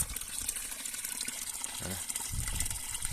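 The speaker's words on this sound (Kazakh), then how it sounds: "Осындай трубадан су ағып тұр." Spring water runs from a pipe in a steady, faint gushing trickle outdoors, with a brief splash partway through, while a voice speaks briefly.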